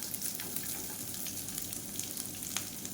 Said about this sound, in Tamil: ஒரு மீடியம் சைஸாக பெரிய வெங்காயம் நீளமாக நறுக்கியிருக்கேன் அதை சேர்த்துக்கலாம்